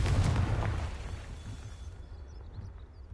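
A Confringo spell blast in Hogwarts Legacy sets off a sudden deep explosion that booms loudly at first, then fades into a rumbling tail over a few seconds.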